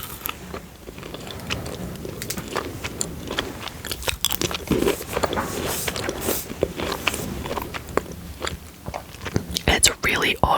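Someone chews a crunchy puffed rice Halloween sweet up close in an ASMR setting, with repeated crisp crunches and mouth sounds under soft whispered talk.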